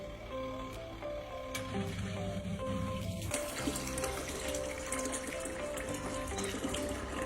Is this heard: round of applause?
no